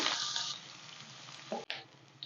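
Chopped onion fries in oil with a whole bay leaf, cumin seeds and dry chili, a soft crackling sizzle that fades toward the end, broken by a couple of brief stirring clanks.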